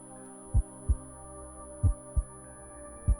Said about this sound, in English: I can hear the heartbeat very prevalent